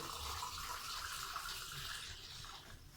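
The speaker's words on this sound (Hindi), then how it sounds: "और अब मैं चौथा गिलास भी पानी का डालूंगा आपके सामने" A glass of water is poured into a pot of whole masoor dal, a steady close rushing splash that lasts a few seconds and thins out toward the end.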